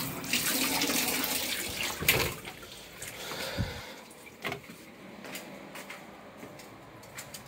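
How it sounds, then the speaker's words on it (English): A hotel shower at the Olympic Island Beach Resort in Wildwood Crest, New Jersey runs with strong pressure, a loud close hiss of spraying water that drops away after a couple of seconds, leaving faint splashes and clatter. "The shower pressure on this thing is very good."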